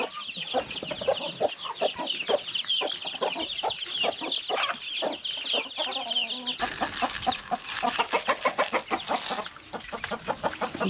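Village chickens cluck continuously in a steady, busy chorus close by, with overlapping calls throughout and no talking.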